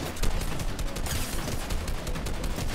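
Gunfire rattles in the video game Fortnite in rapid, dense bursts of shots at close range, loud and continuous across the whole stretch with no talking.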